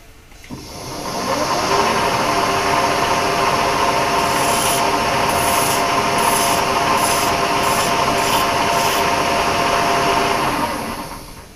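A metal hand file rasps steadily over a bronze part of a milling machine dividing head being restored, a continuous close, loud scraping for about ten seconds with no talking.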